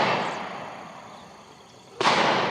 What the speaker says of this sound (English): Why is there someone always shooting?